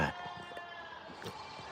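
Sheep bleating faintly in the distance, a couple of short calls over a constant hum of background noise.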